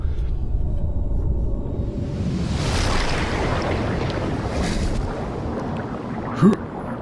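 Watery underwater-style rumble and churning ambience while swimming in the ocean in the video game SOMA, a steady broadband wash with a brief sharp knock near the end and no talking.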